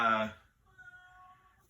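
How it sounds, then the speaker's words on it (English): A cat gives one loud, drawn-out meowing howl close by, then a thinner, quieter tonal cry trails after it over a quiet background. "I just think I acquired a new kitty cat today. And, so that's it. It's howling at me."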